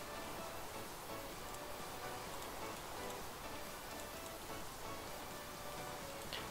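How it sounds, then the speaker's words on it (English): Rain falls steadily in Minecraft, a soft, even hiss of pattering drops that stays constant and fairly faint throughout, with no voices. "Raining."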